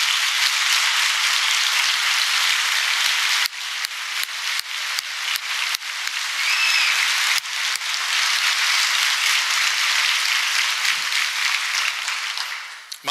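Sustained audience applause for a university contributor at a State of Christopher Newport 2016 address, dense clapping from a large crowd that dips briefly midway before swelling again and carrying on to the end.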